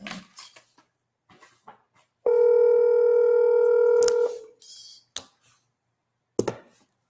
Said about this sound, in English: I'm probably just gonna call from my cell phone.